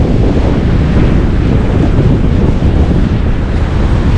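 Steady surf and strong wind on Laganas Beach, a loud, unbroken wash of waves with heavy wind buffeting the microphone and no voices.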